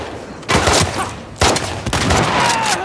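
Loud gunfire at a WLF base in The Last of Us Part II: sharp shots at irregular intervals with game ambience between them and a faint tone near the end.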